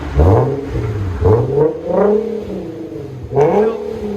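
A 2016 Infiniti Q70 S with a 3.7L V6 and an aftermarket exhaust revs close up in several loud, deep throttle blips, each rising and falling in pitch, with no voices.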